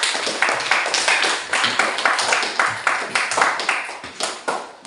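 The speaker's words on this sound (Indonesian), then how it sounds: "Tepuk tangan dulu untuk penanya yang kedua." A classroom audience claps for a second student questioner during a teaching-practice session, a short burst of close, somewhat uneven hand claps with a rhythmic quality, heard alone.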